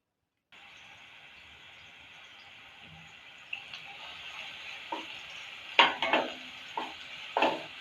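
A crushed masala of shallots, garlic and green chillies fries in hot oil for a prawn roast, a steady bright sizzle that builds as a spoon scrapes and knocks against the pan in sharp, irregular strokes.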